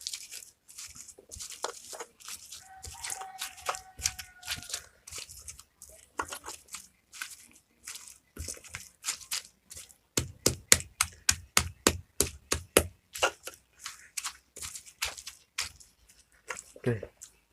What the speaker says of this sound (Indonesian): Kita ulek dulu.